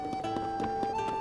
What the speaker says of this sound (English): Okay, so there are the horses.